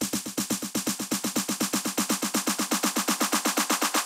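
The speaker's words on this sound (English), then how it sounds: "What we have here, we have a snare roll." A trance build-up snare roll layered with claps, programmed in Cubase, fires rapid, evenly spaced hits at about eight per second, loud and steady throughout with no voices.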